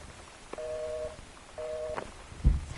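Electronic beeping tones like message alerts from an old 1995-era phone: two sustained two-pitch tones, each lasting about half a second, separated by a short pause and followed by a thump.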